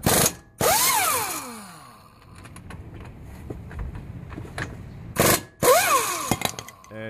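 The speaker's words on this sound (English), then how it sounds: "that's a 3/4 inch socket right there to take the caliper bracket off the" A power tool with a 3/4 inch socket spins off the brake caliper bracket of an Infiniti FX35, two loud whirring bursts whose pitch falls as the tool winds down, with quieter clicks and handling noise between them.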